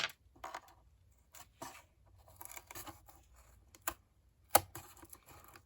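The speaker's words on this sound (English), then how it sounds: "just going along, snipping off." Scissors snip serrated bits off the edge of a cardboard ink box lid, giving a string of quiet, close, irregular clicks and cuts with one sharper snap near the end.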